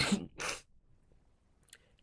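Two quick sneezes burst out close to the microphone, a sharp first one followed right away by a second, then near silence with a faint small sound at the end.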